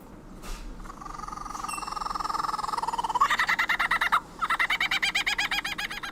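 Lyrebird mimicking other bird species: a whistled tone and layered calls giving way to rapid, rhythmic chattering pulses, with a brief break before the pulsing resumes, clear and fairly near, without talk.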